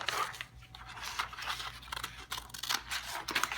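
Scissors cutting out a paper piece for a homemade game controller mod, with quiet, close, repeated snipping and crunching strokes that have a papery, scratchy texture, alone and without talk.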